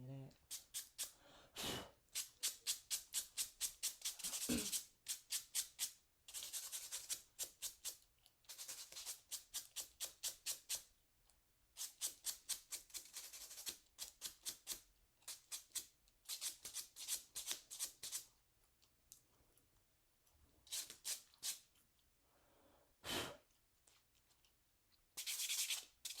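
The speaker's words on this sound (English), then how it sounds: "I'm buffing the shine off" Rapid back-and-forth buffing strokes on fingernails at home, close and crisp, coming in bursts of quick rasping passes separated by short pauses, with a brief voice now and then.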